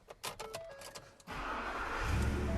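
A Ford Raptor pickup's big V8 cranks and fires up after a few ticks and clicks, then settles into a loud, steady, deep rumble close by.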